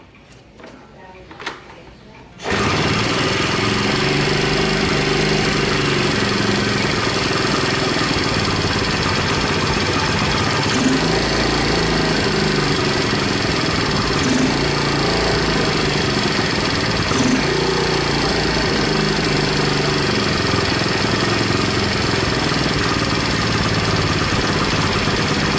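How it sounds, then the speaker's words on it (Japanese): A Honda SS50 motorcycle engine fires after a few clicks and settles into a loud, steady idle that runs close by for over twenty seconds, with a voice faintly under it. "それではちょっとエンジンかけます。"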